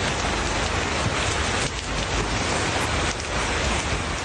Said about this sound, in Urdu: مارگلہ ہلز کے قریبی سیکٹرز میں شدید ژالہ باری ہوئی۔